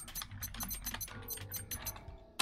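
Fast, steady clicking of computer keyboard keys, a dense run of crisp close-up taps with no pauses, ending in one slightly louder keystroke.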